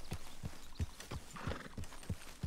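Horse hooves clopping in an even, steady rhythm in the Red Dead Redemption 2 video game, each beat a distinct dull thud, with a faint breathy whinny midway and no speech.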